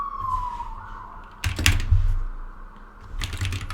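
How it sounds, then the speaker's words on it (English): A siren wails faintly in the distance, its pitch sliding down, while keys clatter nearby in a quiet room. "Sorry about the siren."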